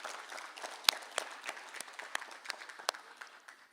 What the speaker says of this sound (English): Let's give yourselves a round of applause for being here tonight.